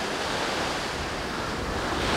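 Ocean waves wash onto a beach while wind blows across the microphone, making a steady, full roar that swells slightly toward the end. No voices are heard.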